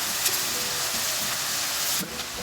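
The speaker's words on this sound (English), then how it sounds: "So it gets, you know, fried along with the onions." Garlic, ginger and onions frying in a pan for a masala soya chunk dish, giving a steady, close, continuous sizzle with a light stirring scrape near the end.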